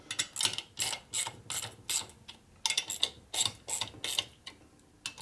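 A ratchet clicks in repeated bursts as bolts on a 1965 Harley-Davidson Panhead 74ci FLH engine are pulled down to light torque during a rebuild, giving close, crisp, rhythmic ratcheting strokes with short pauses and no talking.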